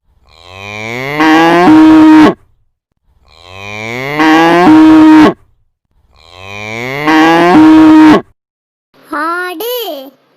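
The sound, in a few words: cow mooing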